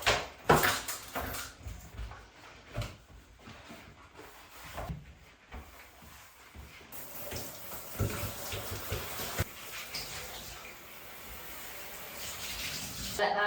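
Water runs and splashes from a shower or tap during a quick once-over of a shower screen, a fairly faint, continuous wash with scattered knocks and handling sounds and no talking.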